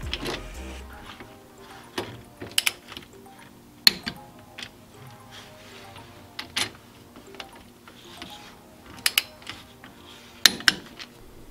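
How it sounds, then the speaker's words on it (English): Metallic clinks and sharp ticks from a torque wrench tightening the axle cover bolts on a Dana 35 differential to 30 foot-pounds, isolated taps spaced apart with quiet gaps, close and without talking. "we'll go around and torque the cover bolts to 30 foot-pounds."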